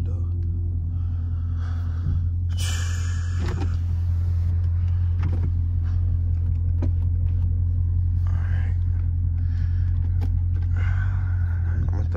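A Dodge Scat Pack with a 392 Hemi V8 and shaker hood cruises on the road, its deep engine rumble close and steady throughout, with some talking over it.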